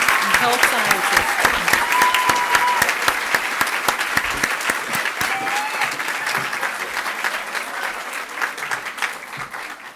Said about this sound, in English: Round of applause for the School of Education, Human Science, and Health Sciences.